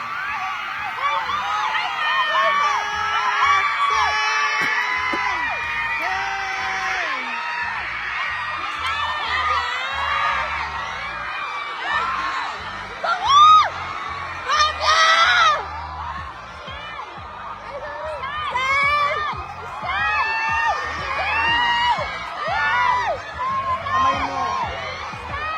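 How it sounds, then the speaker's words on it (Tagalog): Fans scream for the pop group SB19 during a surprise appearance at Ayala Market Market, with many high, shrill shrieks and whoops overlapping in a sustained, excited crowd din. "Grabe hiyawan ng mga 18."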